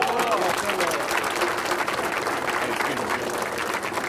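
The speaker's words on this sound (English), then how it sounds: "How about a round of applause for both of" An audience claps at a public event, a sustained, dense applause with crowd murmur, fairly loud and steady for several seconds.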